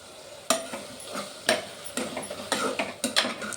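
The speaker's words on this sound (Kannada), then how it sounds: "ಇದನ್ನು ಹಾಕಿಬಿಟ್ಟು ಚೆನ್ನಾಗಿ ಮಿಕ್ಸ್ ಮಾಡಿ ಆ ಹಸಿ ಹೋಗಬೇಕು" A spoon stirs ginger garlic paste in a pan while making kushka. It gives sharp scraping clacks about every half second, with a soft sizzle underneath, close by and without talk.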